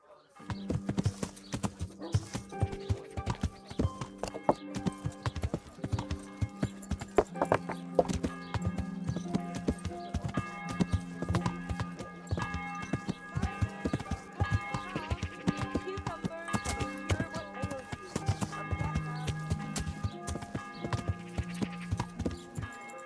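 Rhythmic clip-clopping hooves keep up a steady gallop for a long stretch in the video game Kingdom Come: Deliverance, with a horse whinny, music and occasional voices over the top.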